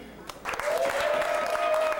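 Audience applause breaks out at a comedy show, rising after a brief pause into sustained, steady clapping from the crowd, with a faint tonal whine running beneath it.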